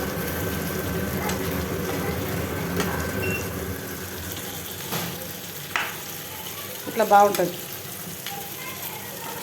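Chicken frying in an uncovered pan for a restaurant-style chicken fry, a steady low sizzle throughout with a couple of brief stirring clinks and a short spoken remark near the end.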